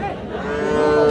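A bull calf at a cattle market gives one loud, sustained moo lasting about a second, close by, with no talk over it.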